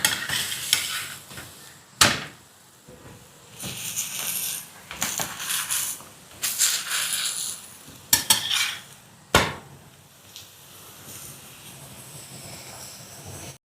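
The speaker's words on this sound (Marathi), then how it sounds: "त्या बाजूनही आपण याला व्यवस्थित असं शेकून घेणार आहोत," Raw mango and cucumber thalipeeth roasting on a pan, with soft sizzling broken by sharp metal scrapes and clinks of a spatula against the pan, intermittent and close.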